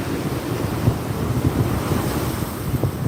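Ocean waves break and wash onto a Florida beach, a steady rushing surf with low churning water, loud and near, mixed with gusty wind buffeting the microphone, no voices.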